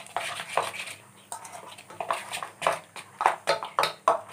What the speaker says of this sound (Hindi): हमने इसे मिक्स कर लिया है।